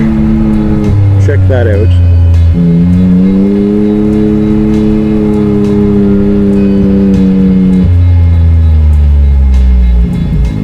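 Can-Am Maverick X3 UTV riding a gravel rail trail, its engine droning loudly up close and rising in pitch as it speeds up and shifts, with a brief spoken remark over the motor.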